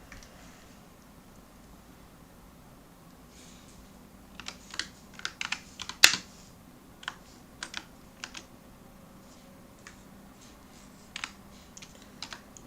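Typing on a computer keyboard: scattered bursts of quick key clicks with pauses between, one sharper louder clack near the middle, close and fairly quiet over a low steady room hum.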